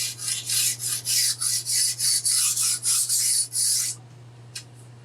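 A flat file rasps across a chainsaw guide bar to take off burrs, making about a dozen quick, even strokes close up, then it stops and one faint tap follows over a low steady hum.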